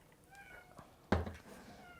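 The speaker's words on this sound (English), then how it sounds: "meowing because it's summertime here and he wants to go outside" A house cat meows in a home kitchen on a summer day, wanting to go outside: one short, sharp meow stands out against quiet room tone, with softer voice-like sounds around it.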